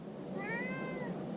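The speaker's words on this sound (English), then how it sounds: "I hear someone meowing." A cat meows once outside a log house under renovation, a single clear drawn-out call, faint and somewhat distant over low background hum.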